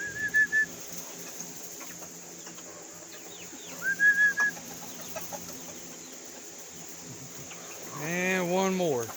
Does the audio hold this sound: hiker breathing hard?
no